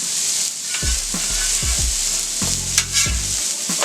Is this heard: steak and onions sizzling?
yes